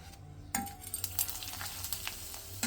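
Potato papads fry in hot oil with a close, crackling sizzle and faint clinks of a utensil stirring, with no one talking.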